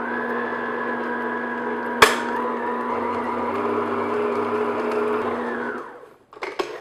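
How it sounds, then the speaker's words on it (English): An electric mixer beats cream cheese for rugelach dough at medium-low speed, a steady whirring hum with a sharp knock near the start, running evenly for several seconds before winding down. "I'm just going to beat this on, medium-low speed"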